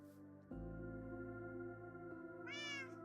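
Minecraft cat meows in the video game, one drawn-out rising and falling meow near the end, heard over steady in-game background music with no talking.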